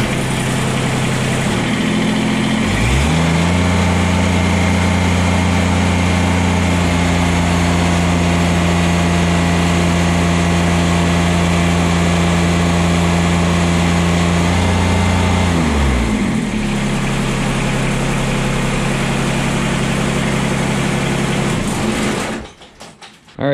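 A Kubota BX compact tractor engine with a skid steer coupler, running during a hydraulic lift capacity test at about 1750 PSI; it idles, revs up and holds a steady loaded drone for around twelve seconds, then drops back before cutting off.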